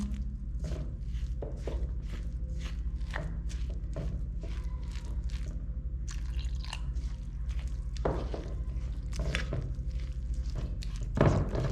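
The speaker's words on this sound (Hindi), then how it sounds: "तो अब मैं इसके अंदर थोड़ा थोड़ा करके पानी डाल देती हूँ।" Water trickles little by little into a recipe mixture in a home kitchen, producing soft, scattered drips and light thunks at a steady, close, fairly quiet level, with no talking.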